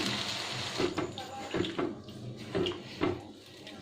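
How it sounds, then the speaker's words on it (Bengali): Water poured into a pan of capsicum and potato curry, close and moderately quiet, with short splashing gushes repeating every half second or so. "এবার এখানে আমি জল দিয়ে দিলাম।"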